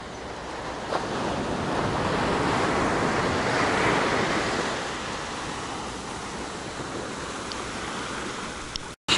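Small ocean waves wash onto a sunny Indian beach lined with palms, a steady nearby surf roar that swells and recedes gently, with wind buffeting the microphone and no voices.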